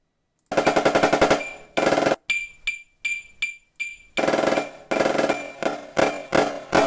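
A student plays snare drum rolls in longer phrases, counted from 4 to 1. Dense buzzing roll bursts alternate with shorter separated strokes and brief gaps, all close and loud with no talking.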